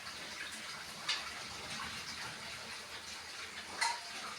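Tap water runs in a steady, faint gush while a bathroom is being cleaned, with a couple of brief splashes or clinks standing out over the continuous flow.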